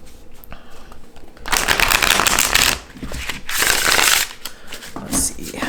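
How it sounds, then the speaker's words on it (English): A tarot card deck is shuffled up close, with two loud, dense bursts of riffling cards separated by a short pause and followed by a softer final burst. "Let's go ahead and shuffle this deck for you."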